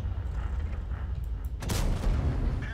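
A single tank cannon shot booms in World of Tanks gameplay from a T110E5, loud and close, cracking out after a low rumbling engine background.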